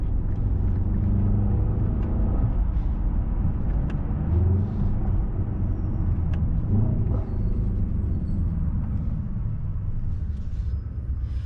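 Deep, steady engine drone and road rumble from a 2024 Mercedes-AMG S63 V8 sedan cruising at night, heard from the cabin, with a few gentle rises and falls in engine pitch as it shifts and pulls.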